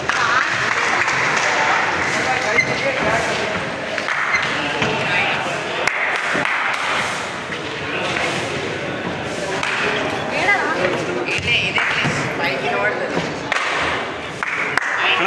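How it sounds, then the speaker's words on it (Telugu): Hands clap at the entrance of Golconda Fort, echoing off the stone walls, with scattered claps and applause from a crowd mixed into constant chatter and voices throughout. "మనం ఇక్కడ కింద చప్పట్లు కొట్టింది 1 కిలోమీటర్ వరకు అయితే స్పష్టంగా వినిపిస్తుంది"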